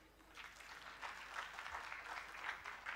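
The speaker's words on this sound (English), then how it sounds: "So give him a big applause." Audience applause at a Unani Day conference at the Yashwantrao Chavan Centre in Mumbai, a faint, distant patter of clapping from a moderate crowd that swells gently and holds steady throughout.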